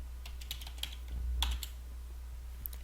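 Typing on a computer keyboard, a sparse run of quick light key taps near the listener over a low steady hum, with one slightly louder cluster midway.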